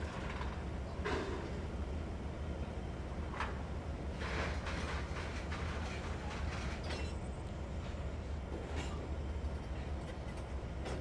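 Train rolling steadily through the Trainz 2022 railroad game, a continuous low rumble with faint clickety-clack and brief squeals as it slows on its own with no brakes applied.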